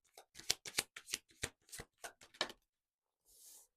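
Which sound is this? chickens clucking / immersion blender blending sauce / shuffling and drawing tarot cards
shuffling and drawing tarot cards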